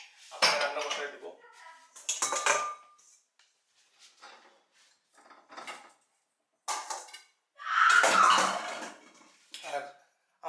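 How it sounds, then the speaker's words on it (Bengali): Dishes and cutlery are taken out of a dishwasher at home, with loud clattering bursts of plates and clinking utensils separated by quiet pauses, close by, and a voice talking briefly in between. "এখন ডিশওয়াশিং থেকে আমি গতকালকে জিনিসগুলো বাইর করে ফেলবো"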